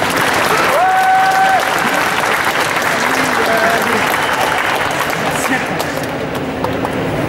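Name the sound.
audience applauding the two performers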